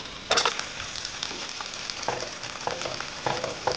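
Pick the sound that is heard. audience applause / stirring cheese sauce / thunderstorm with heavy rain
stirring cheese sauce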